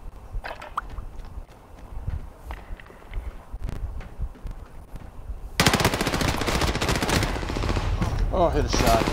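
Rapid automatic gunfire rattles in a video game shooter, sporadic shots at first, then a dense, loud sustained burst of firing for the last few seconds.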